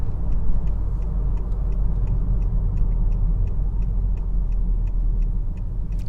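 A 2021 Honda Accord 2.0T Touring cruising in 9th gear at about 53 mph, with steady engine and road rumble filling the cabin and faint repeated ticking above it.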